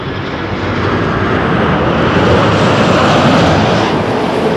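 Steady, loud broadband roar of a jet airliner engine, consistent with a Boeing 737 rolling out on the runway at Toronto Pearson Airport, holding even throughout with no talk.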